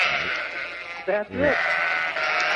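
A sheep bleats loudly through a radio broadcast in one wavering cry, cut into a host's talk, with someone speaking briefly before and after it.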